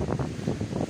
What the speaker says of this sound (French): le vent commence à souffler